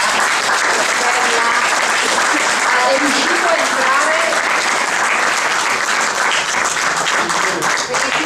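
An audience at a documentary presentation breaks into sustained applause, loud and dense throughout, with a speaker's voice briefly audible beneath the clapping.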